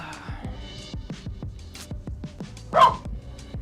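A dog barks in short repeated yips against a steady low backdrop, with one louder bark standing out near the end; no one speaks.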